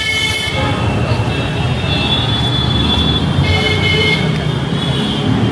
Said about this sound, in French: Par contre, il y a vraiment beaucoup de klaxons.